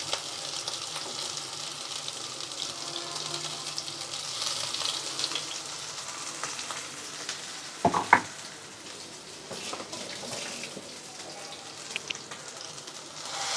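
Amla (gooseberry) paste cooking in ghee in a pan for nellikai halwa, giving a soft, continuous sizzle with a couple of brief clanks from stirring around the middle.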